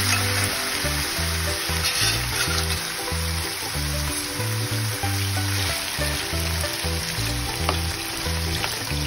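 Chicken frying in a mix of white oil and mustard oil for chilli chicken, a steady close sizzle with occasional stirring over a rhythmic backing tune.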